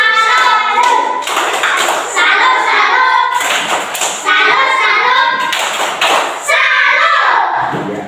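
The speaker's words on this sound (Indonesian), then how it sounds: "Oke, beri tepuk salut." A classroom group does the rhythmic tepuk salut clap in patterned bursts of sharp claps and thumps, with children's voices chanting along between the beats, loud and close.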